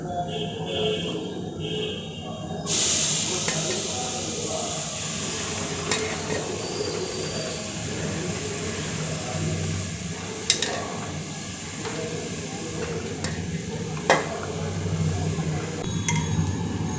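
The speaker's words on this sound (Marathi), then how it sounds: "कुकरमध्ये मी तूप टाकून घेतलेलं आहे आणि याच्यात आपण खिसलेलं गाजर टाकणार आहोत" Steady sizzling of grated carrot frying in hot ghee in a pressure cooker, with stirring and the occasional clink of a utensil against the pot.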